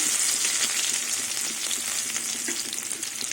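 Whole cumin, bay leaf and crushed garlic crackle in hot oil, a dense, loud, unbroken sizzle close by with no talking.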